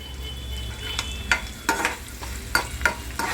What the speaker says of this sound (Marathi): आता आपण कांदा आणि तेल पॅनमध्ये टाकलेलं आहे भाजायला